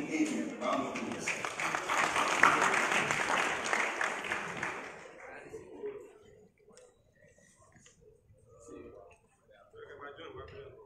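An audience welcomes the CEO of Ghana's Cocoa Board with a burst of applause that fades out after about five seconds, followed by quieter sparse sounds and low talk.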